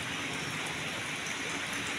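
Heavy rain pours down steadily during the southwest monsoon, a dense, even wash of hissing drops on surfaces that holds at a constant level throughout with no voices.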